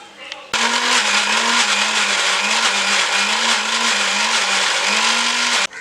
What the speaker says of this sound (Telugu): దీని మొత్తాన్ని కూడా చక్కగా పిండిలాగా మిక్సీ చేసుకోవాలి